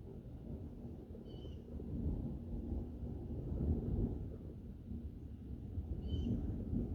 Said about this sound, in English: I love the thunder in the background.